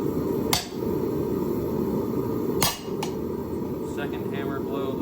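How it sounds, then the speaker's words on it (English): Hammer blows strike a hand-forged iron holdfast: two or three sharp, ringing metallic hits spaced a couple of seconds apart, loud and close over a steady background hum, with no talk. "One hammer blow should give us a hold."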